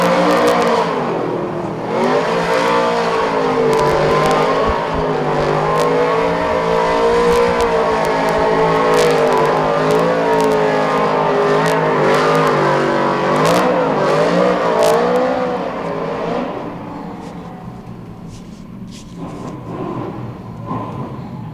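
Ford Mustang RTR drift car at Pukekohe Park during a D1NZ pro drift event, a loud sustained engine roar with wavering revs that fades away toward the end.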